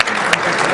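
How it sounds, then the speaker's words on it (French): Audience applause at a security technology presentation event, a dense burst of clapping at steady loudness that fills the whole short moment. "Très bien, on l'applaudit"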